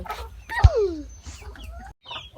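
Hungry laying hens on a small farm cluck near the microphone at evening feeding time. There is a sharp, close cluck, then scattered softer calls, with a brief dog-like bark mixed in.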